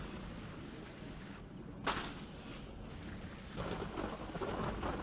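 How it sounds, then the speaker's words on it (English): Rain falls steadily around a shrine in Ultima IX, broken by a sharp thunder crack and a swelling rumble, with the downpour growing heavier toward the end. "it's always raining like at these shrines until you cleanse them"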